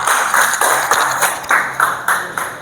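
A class of students claps together in rhythmic unison, a series of loud sharp group claps in a steady beat, close and alone.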